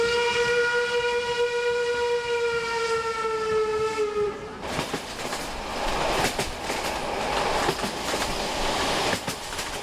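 A train stands at Kaspichan station, a long sustained whistle-like tone ringing for about four seconds, then giving way to steady station rumble with scattered clanks and knocks, no talking.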